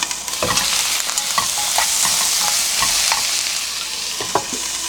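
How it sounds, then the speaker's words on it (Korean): Onions fry with a steady, loud sizzle in a pan over high heat, scraped and stirred with repeated clacks of a utensil against the pan throughout, no voices. "약간 양파가 살짝 누르면서 양파가 이렇게 익어가거든요"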